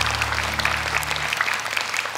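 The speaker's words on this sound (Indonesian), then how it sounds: "Tepuk tangan untuk Ahmad, kasih semangat" Steady applause from a crowd, loud and continuous throughout, with no pauses.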